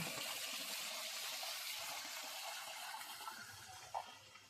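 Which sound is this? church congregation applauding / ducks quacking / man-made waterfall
man-made waterfall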